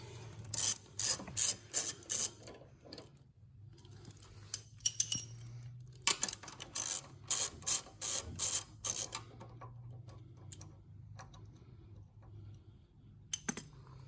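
A ratchet wrench tightening half-inch exhaust bolts on a Harley-Davidson touring motorcycle fitted with slip-on mufflers, giving quick bursts of clicking in several runs separated by pauses, close and clear, with no talk.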